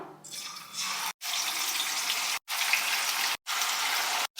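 Marinated chicken pieces sizzle and crackle steadily in hot oil, a loud broadband frying hiss broken by a few short pauses, heard on its own without talk.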